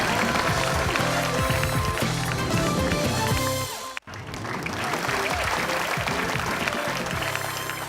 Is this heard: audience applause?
yes